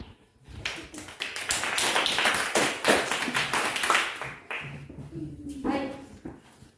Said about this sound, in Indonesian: tepuk tangan untuk teman-teman yang sudah mewakili kelompok